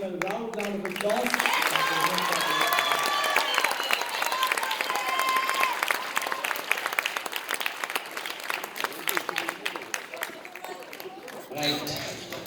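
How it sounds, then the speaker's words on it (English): A school audience at the Ananda College inter-house English drama competition breaks into sustained, loud applause for an award winner at the ceremony, the clapping dense and steady before thinning toward the end, with a crowd murmur and a brief lull near the close. "Give him a round of applause."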